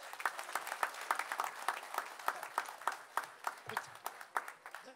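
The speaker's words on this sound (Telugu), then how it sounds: "అందరు ఆపకుండా చప్పట్లు." An audience claps at a book launch, a moderately quiet, sustained patter of many individual hand claps, some sharper ones standing out near the microphone, with no talk over it.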